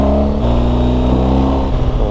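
Motorcycle riding along a coastal road in southern Italy, between Maratea and Calabria, its engine droning steadily and close throughout with a rising harmonic whine as it accelerates, no voices.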